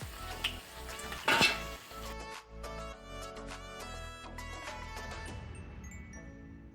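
Bread pakoda is lifted out of hot frying oil, with clinks of a utensil against the pan, a light sizzle underneath, and a few louder metallic knocks early on, fairly close and without speech.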